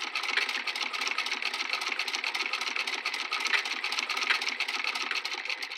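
A handcrank sewing machine stitches a zigzag through three quilt layers of flannel and cotton, a steady fast mechanical clatter running continuously and close.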